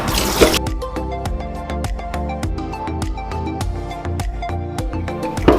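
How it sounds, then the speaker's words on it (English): Water runs and splashes as a brined pig's tail is rinsed under a tap, a loud, continuous wet patter with rapid irregular drips and splatters throughout. "What you want to do now is to just rinse this real quick because remember it's brined, right?"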